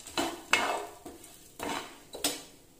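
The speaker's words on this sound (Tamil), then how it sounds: "நம்ம எல்லாமே வந்து ட்ரை ரோஸ்ட் தான் பண்ணிகிட்ருக்கோம், எண்ணெய்லாம் நம்ம எதுவும் சேர்க்கலை." Grated coconut dry roasted in a pan without oil for a Chettinad egg curry, stirred with a utensil in rhythmic scraping strokes, about six close, clear passes with light clatter against the pan.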